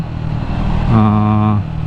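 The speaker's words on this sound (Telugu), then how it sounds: "మీకు ఇంజిన్ పర్ఫార్మెన్స్ ఎలా ఉంటుందని మీకు చూపిస్తా." Triumph Scrambler 400 X motorcycle engine revving up, a loud, close rising drone that climbs in pitch, holds briefly, then drops back to idle within a couple of seconds.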